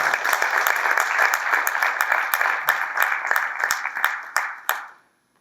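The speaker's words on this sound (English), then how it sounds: "So I think each one of us deserves a big round of applause." An indoor audience at a chapter award celebration and seminar breaks into a dense round of applause with sharp individual claps, holding strong for several seconds before stopping abruptly.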